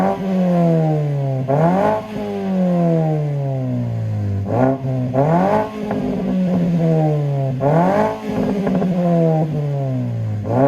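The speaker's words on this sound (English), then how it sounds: "I'm gonna give you some sound clips of the Borla exhaust." Mazda 3 hatchback fitted with a Borla exhaust revs repeatedly, each loud rising blip falling back to a steady idle, about four rev cycles close to the mic with no talking.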